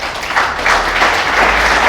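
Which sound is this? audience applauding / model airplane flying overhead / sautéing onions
audience applauding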